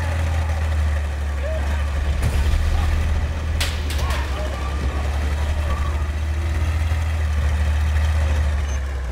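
A tank engine idles in the Battlefield 1 video game, a loud, steady low rumble running throughout, with a few sharp clanks and brief voices over it.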